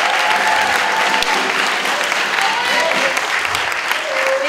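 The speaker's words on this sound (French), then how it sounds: "veuillez applaudir vos animatrices pour cette période" Sustained applause from a large audience at a school merit awards gala, dense and loud throughout with a few faint voices and whistles mixed in.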